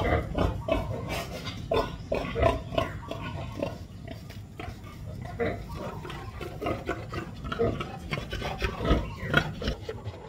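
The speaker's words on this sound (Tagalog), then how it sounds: "Ito naman po yung baboy natin na malapit palati sa atin, oh." Low, rough pig grunts and snuffling close by, repeating irregularly over steady rustling and scraping noises.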